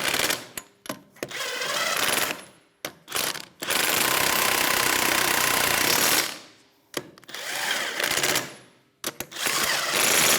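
A power tool with a 21mm socket runs lug nuts onto a Toyota RAV4 wheel, giving several loud whirring bursts of a few seconds each, split by short pauses, close up and with no talk.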